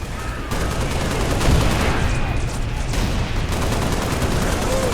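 Sustained bursts of rapid gunfire and explosions fill a Halo Reach battle among rocks, loud and continuous with overlapping shots throughout.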